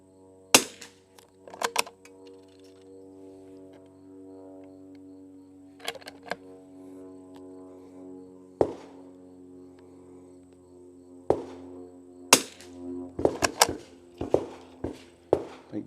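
Winchester 52E rifle firing Eley Match rimfire ammunition outdoors, sharp cracking reports spaced irregularly, a few single shots then a quicker cluster near the end, over a faint steady background hum.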